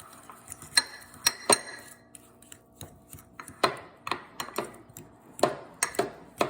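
A utensil mixes butter into a cinnamon roll baking mixture in a bowl, giving irregular clinks, scrapes and taps against the bowl, close and fairly quiet, with no voices.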